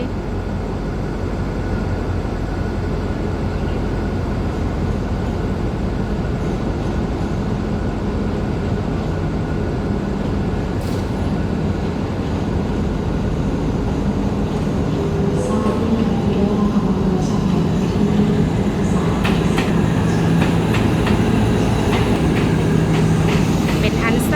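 Locomotives and trains idling and moving at Bangkok's Hua Lamphong station, a steady loud rumble of diesel engines filling the platforms with faint clanks and squeals, while someone talks over it.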